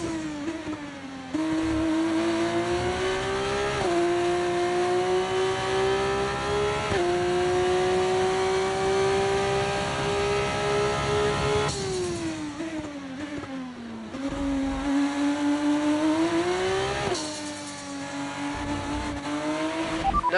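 A race car engine screams through a lap in a racing video game, high and sustained. The pitch climbs with each gear, drops sharply at the shifts, and rises again, loud and continuous, with no voices.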